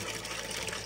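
Water splashes and runs as small items are scrubbed and rinsed by hand, a close, steady washing noise lasting under a second with no talking.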